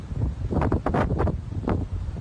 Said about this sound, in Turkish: Şiddetli rüzgar başladı.